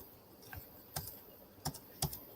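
A few scattered keystrokes on a computer keyboard, quiet and close, with pauses between taps.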